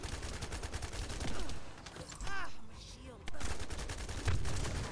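Gunfire in the sci-fi shooter video game The First Descendant, rapid sustained bursts of shots in clusters through the whole span, with someone talking over them.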